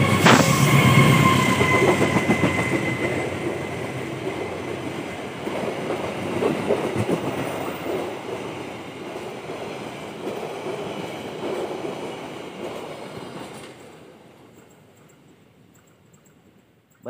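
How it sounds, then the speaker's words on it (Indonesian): A Lodaya morning passenger train passes straight through Indihiang station, heading west, with a loud, steady rumble of rolling wagons and clattering wheels that gradually fades away. "akan masuk kereta api Lodaya Pagi dari arah sebelah timur menuju ke arah barat ya"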